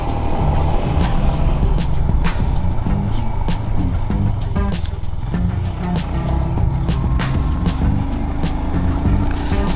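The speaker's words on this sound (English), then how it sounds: "That's another truck carrying fuel for us." A heavy fuel truck engine roars steadily close by, the truck rumbling past on the road to Ladakh with constant loud droning and clattering, no voices over it.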